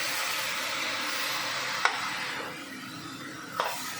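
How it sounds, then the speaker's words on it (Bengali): Chicken liver and stomach sautéing slowly in oil, a steady close sizzle broken by two brief scrapes of a stirring spoon against the pan. "এবার আমি এটা দিয়ে দিলাম মাংসটা, এবার ধীরে ধীরে কষা করবো।"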